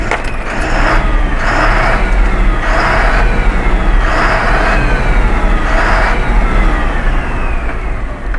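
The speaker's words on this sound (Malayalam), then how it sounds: "ഇതാണ് ലൈലാൻഡിൻ്റെ ജസ്റ്റ് ആക്സിലേറ്റർ കൊടുത്തു നോക്കാം" An Ashok Leyland BS4 Kerala tourist bus engine revs under repeated accelerator blips, five loud rising and falling surges over a steady diesel idle, close and alone.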